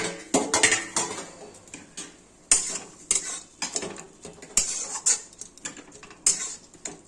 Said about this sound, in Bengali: এখন ঢাকাটা তুলে দিচ্ছি।